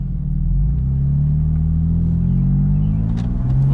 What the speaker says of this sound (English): part of owning a turbo car is the turbo noise